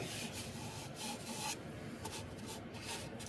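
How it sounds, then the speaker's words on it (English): Sandpaper rubbing steadily over a freshly turned wooden bowl, a continuous close-up rasping hiss with slight surges and no voices. "I'm just going to sand it up and let it dry."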